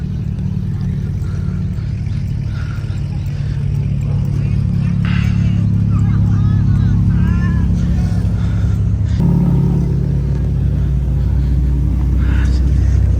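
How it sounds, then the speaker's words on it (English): Engines of a crowd of cars rumble and rev at a 2022 toy rally in South Florida, a continuous close idle with bursts of revving from several vehicles, including a red Ferrari 458 Spider and 488. "Get all the cars start up."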